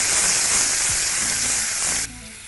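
A pan of Indian tempering with a finely chopped ingredient and jaggery is stirred, giving a loud, steady sizzle and hiss with faint scraping of a spoon, which drops abruptly near the end.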